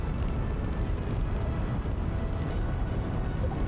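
Rocket engines of a heavy super-lifter roar steadily during a slow ascent in Kerbal Space Program 2, a constant loud, rumbling wash of thrust with no breaks throughout.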